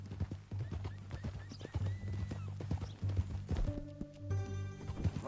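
Horse hooves clip-clopping at a steady walk in Red Dead Redemption 2, fairly close and rhythmic, ending with a clear whinny near the end; faint talk occurs briefly.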